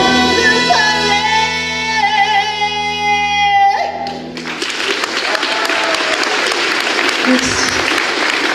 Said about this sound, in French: Alexandra, un tonnerre d'applaudissements.